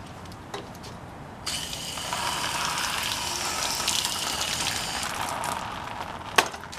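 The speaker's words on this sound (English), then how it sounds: "I'm going to rinse it now." Water gushes steadily over a car headlight lens being rinsed after polishing with restoration compound from a Sylvania headlight restoration kit, a continuous hissing spray lasting several seconds with a brief knock near the end.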